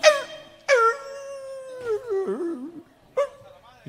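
A flea-ridden dog howls and whimpers in a few drawn-out, wavering cries separated by short pauses, fairly close and with no music behind it.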